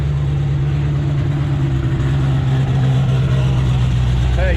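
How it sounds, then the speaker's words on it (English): Corvette engine idling at an outdoor car show, a steady low rumble held up close throughout with no clear talk over it. "Corvette."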